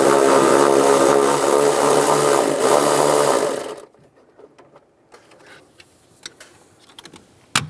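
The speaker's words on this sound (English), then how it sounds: "Take this nut off." A power ratchet whirs loudly for a few seconds as a nut comes off with a 10mm socket on the accumulator band of a 2007-2013 Chevrolet Silverado, then cuts out, leaving faint clicks and taps of the part being handled.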